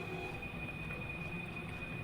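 Train in the horror video game Granny 3 rumbles steadily, a loud continuous rolling drone with a thin high whine running through it.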